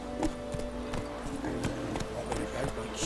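Roach, a horse in The Witcher 3, runs with a steady clip-clop of hooves that sounds close and moderately loud, set over faint game ambience.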